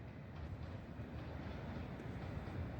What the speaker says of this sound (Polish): Jedzie jakiś Griffin